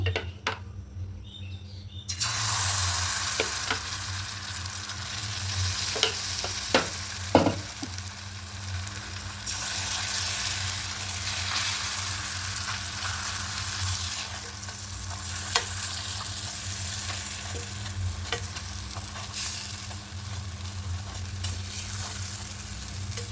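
Sweet roti batter sizzles steadily in a small buttered pan, a loud continuous frying hiss with occasional scraping stirs and faint bird chirps in the background.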